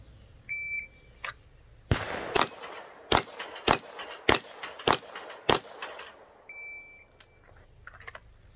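Seven sharp gunshots ring out at steady intervals at a Bianchi steel plate rack on a shooting range, loud and close, with faint electronic beeps of a shot timer before and after the string.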